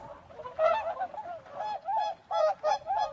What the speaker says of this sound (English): This is a swan.